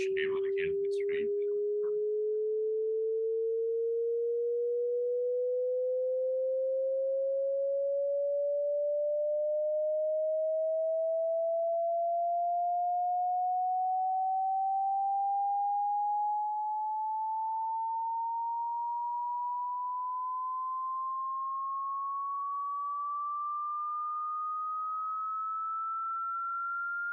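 A pure sine tone sweeps steadily upward in frequency toward about 20,000 Hz over about half a minute, starting low and rising smoothly, after a brief burst of noise at the start.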